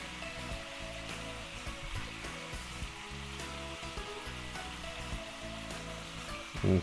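Giant beef ribs browning in a hot wok for Asian BBQ, giving a steady loud sizzle and frying hiss throughout with small stirring shifts and a brief thump at the end.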